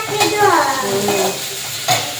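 Vegetables being stir-fried for veg fried rice, with a couple of sharp utensil strikes against the pan over a soft sizzle, close by, alongside a brief tonal sound.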